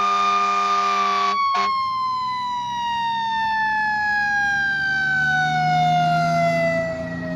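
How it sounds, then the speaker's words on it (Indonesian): A red toy fire truck sounds its electronic siren, a loud, close wailing tone that slides slowly downward in pitch, briefly cut by two quick clicks near the start. "Ini adalah si mobil damkar."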